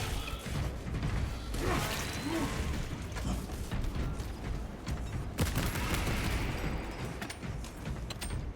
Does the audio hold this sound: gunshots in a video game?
yes